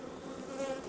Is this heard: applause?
no